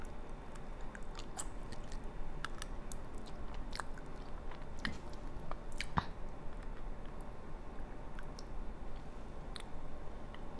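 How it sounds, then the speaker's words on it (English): Birria tacos are chewed and bitten up close, giving a steady run of wet mastication with scattered crisp crunches and clicky bites and no talking. "Y'all getting an eating show and a little ASMR at the same time."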